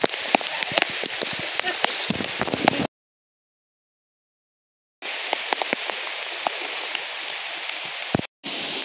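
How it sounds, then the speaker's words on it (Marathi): Heavy monsoon rain in the Konkan countryside pours down as a loud, steady hiss, cut off by a stretch of silence before the downpour resumes. "जोरदार पाऊस आलेला आहे इकडं"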